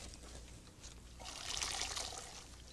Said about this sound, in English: Be sure and drain this now. You don't want water on the platter.